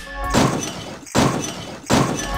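Three loud smashing impacts, evenly spaced, each a sharp crash followed by a scattering shatter of breaking glass.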